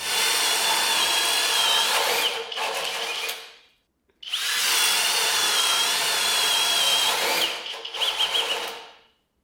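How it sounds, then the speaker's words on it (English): A Flex hammer drill with a spade bit bores through wood in two long, loud grinding runs, each winding down to a stop, with a brief silence between them. "Now let's see how things shook out in our wood drilling tests."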